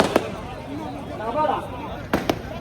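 Firecrackers burst at a car rally: a few sharp, cracking pops, one early and a quick pair near the end, ring out among crowd voices and talk.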